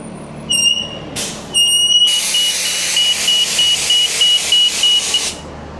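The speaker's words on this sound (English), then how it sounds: "Okay, there's the bus." A city bus pulls in at a stop, its brakes hissing in a broad burst of air, with a repeated high electronic beeping and general street noise around it; no voices.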